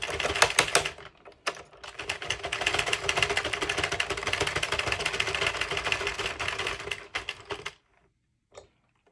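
A Sentro knitting machine cranked one full turn with no yarn fed in gives a fast, steady run of light plastic clicks, close and even, lasting several seconds before stopping abruptly, followed by a stray click.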